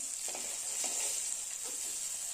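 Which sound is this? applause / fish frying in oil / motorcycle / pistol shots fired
fish frying in oil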